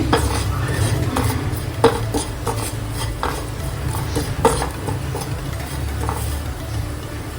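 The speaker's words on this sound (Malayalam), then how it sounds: "മുളക് പൊടിയും കൂടെ ഒന്ന് ഇളക്കി കൊടുക്കാം" A spoon scrapes and clinks against a pan while stirring chili powder into paneer masala, with a steady sizzle under repeated metallic stirring strokes.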